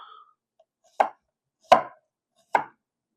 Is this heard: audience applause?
no